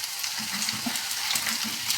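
Aval sukhiyan fries in oil in a wide, shallow pan: a continuous, dense crackling sizzle heard up close, with faint stirring pops and no talking.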